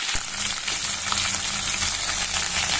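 Beans and mixed vegetables frying in a pan, giving a dense, even sizzling hiss up close, broken by a brief knock near the start.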